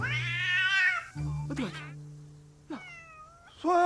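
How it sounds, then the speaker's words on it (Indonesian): A cat lets out a sudden, loud yowl that stretches close to a second, followed by several shorter, rising meows and cries with pauses between them. No one speaks. "kucing mereka tiba-tiba berteriak"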